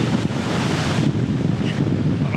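Strong wind roars and buffets the microphone at a beach, with crashing surf churning continuously underneath, loud and steady throughout without any voices.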